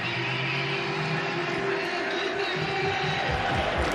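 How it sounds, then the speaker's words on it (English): Dense, steady roar of a large stadium crowd at an Iowa State football game in Ames, continuous and loud with no pauses, a broad wash of many voices cheering. "Back here in Ames, crowd feeling the energy"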